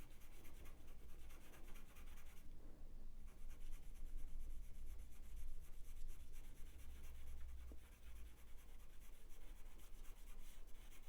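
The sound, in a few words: pencil scratching on paper while drawing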